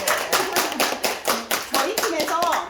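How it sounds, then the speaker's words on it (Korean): An audience at an Amway business presentation in Korea gives brief rhythmic applause, with sharp, evenly spaced claps close by over roughly three seconds and a voice speaking through them. "네, 박수!"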